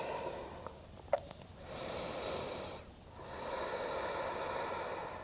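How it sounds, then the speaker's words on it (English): Deep, slow breathing during a vinyasa yoga pose, two long airy breaths close to the mic, each a steady rush of air with a brief snort-like catch near the start. "Taking two more breaths here."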